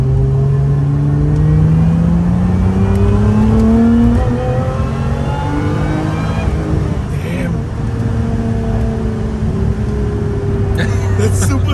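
A Toyota 2GR supercharged V6 car accelerates hard on a wet track, engine note climbing through gears with rising supercharger whine and shift dips, loud and close from inside, with a voice talking over it.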